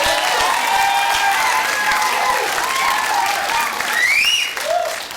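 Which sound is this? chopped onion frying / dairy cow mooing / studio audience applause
studio audience applause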